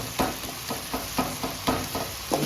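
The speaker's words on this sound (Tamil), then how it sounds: "இது நல்லா வதக்கி வச்சு அது பிறகு கறி ஏற்றி போட வேண்டியதான்" Chili masala sautéing in a pan for chicken gravy gives a continuous close sizzle, with a spoon stirring and scraping in soft, regular strokes about every half second.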